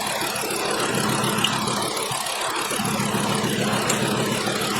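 A petrol engine idles with a misfiring cylinder that skips, giving a steady, close, continuous rumble with a faintly uneven pulse and no talking.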